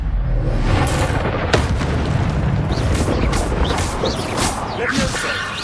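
Expelliarmus disarming spell cast in the video game Hogwarts Legacy: sharp magical bursts and crackling whooshes with a booming impact, repeated among other spell effects over a busy game soundscape.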